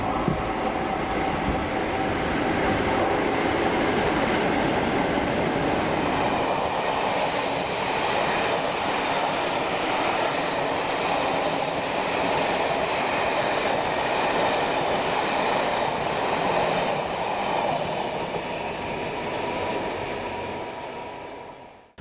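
The Statesman rail tour, running Inverness to Leicester behind class 47 diesel locomotives 47614 and 47828, rolls past loud and steady for over twenty seconds, with wheel rumble, rail clatter and some high squeal under a continuous engine drone.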